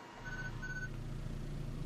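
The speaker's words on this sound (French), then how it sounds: "un bip" A carpooling app on a phone sounds a quick notification: two short, clear beeps in succession, fairly faint above a steady low background hum.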